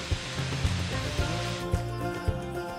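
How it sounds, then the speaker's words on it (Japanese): Shiraito Falls near Mount Fuji pours in a steady, full roar of falling water, a dense continuous rush with no talk over it. "鮮やかな色に染まる白糸の滝"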